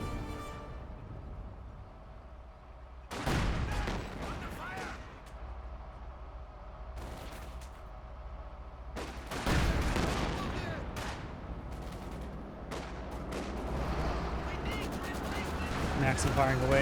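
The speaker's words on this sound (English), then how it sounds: "Maxim firing away." Maxim machine gun fire in Company of Heroes 2, heard as bursts of rapid gunfire at about 3, 7 and 9 seconds over a continuous battle din, with further scattered shots and rising noise toward the end; commentator-style talk may run beneath.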